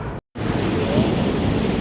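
Strong ocean surf at a beach in Puerto de la Cruz, a loud, continuous rushing wash of breaking waves with a brief gap at the start.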